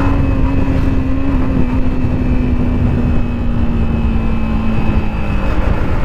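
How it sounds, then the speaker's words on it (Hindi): Motorcycle exhaust drones steadily during a ride with a passenger aboard, a loud, close engine note holding at a nearly constant pitch under rushing wind noise. "एग्जॉस्ट की आवाज सुन रहे हो आप"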